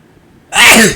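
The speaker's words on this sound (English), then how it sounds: "Am I sneezing today?" A single loud, close sneeze bursts out abruptly after near silence and trails off quickly.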